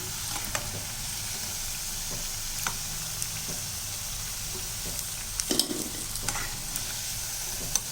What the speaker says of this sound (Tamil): ரெண்டு பக்கமும் நல்லா வெந்து மொறு மொறுன்னு வரணும்